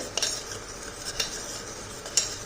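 Broken wheat dry-roasting in a pan for a Gujarati sweet, stirred continuously with a spoon, giving soft scraping and a few sharp clinks against the metal over a faint sizzle, close and fairly quiet.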